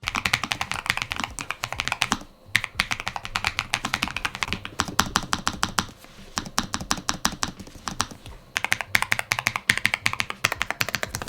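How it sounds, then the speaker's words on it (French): Rapid clacky typing on a Lofree Flow 2 mechanical keyboard, dense bursts of keystrokes with short pauses, close and crisp, no voices. "on reconnaît quand même le bruit d'un clavier mécanique"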